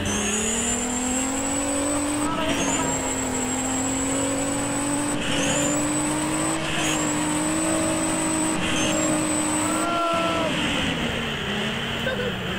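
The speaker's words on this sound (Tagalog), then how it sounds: "So ito nga pala ang aking kotse guys, GTR" A GTR sports car in the Driving Empire racing game, its engine droning steadily at high revs through repeated gear shifts, with a tire squeal near the end and a synthetic, continuous in-game engine tone.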